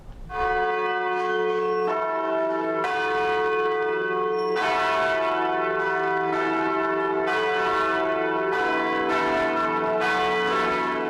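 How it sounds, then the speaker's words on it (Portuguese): Bells of São Paulo's Sé Cathedral ringing to mark the canonization of Jesuit priest José de Anchieta, with loud, resonant strikes that overlap into a sustained, shimmering peal. "os sinos da Igreja da Sé soaram por 5 minutos nesta tarde"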